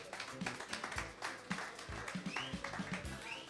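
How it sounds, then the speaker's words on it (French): Audience applause at a French talent show stage session after a contestant's turn, a dense steady patter of many hands with scattered louder claps and some background voices mixed in. "Des applaudissements, s'il vous plaît."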